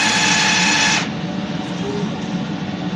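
A DTF printer runs a nozzle test: a loud steady mechanical whir for about a second, then it cuts off, leaving a lower hum and faint clicks.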